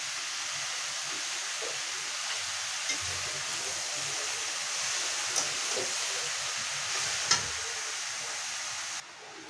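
Shapla stems with shrimp, turmeric and salt fry slowly in an uncovered pan, giving a steady, even sizzle with a few soft clicks from stirring, close and continuous, with no talk.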